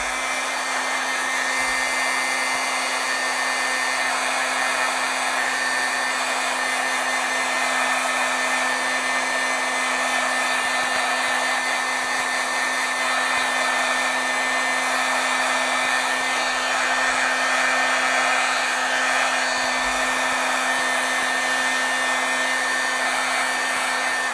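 A heat tool runs steadily and loudly throughout while heat-setting stamped autumn paint dots on a card, a constant blowing hiss with a low hum and no talking.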